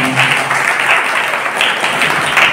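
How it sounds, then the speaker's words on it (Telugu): Another round of applause from the congregation at Rev. Fr. Thomas SDB's 25th jubilee in Kamalapuram parish, with many hands clapping loudly and evenly nearby in a continuous crowd patter and no talking. "మూడవసారి చప్పట్లు కొట్టండి"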